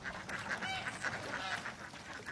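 Ducks quacking by the water of a rice paddy, a run of repeated nasal honking calls at a moderate distance over steady outdoor ambience.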